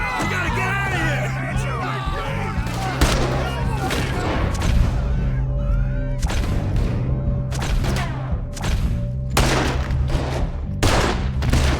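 Gunfire in a Red Dead Redemption 2 shootout on a Twitch stream: many loud shots and bursts crack out irregularly, several heavy volleys stacked over a steady hum of game music and background noise, with brief talk in the middle.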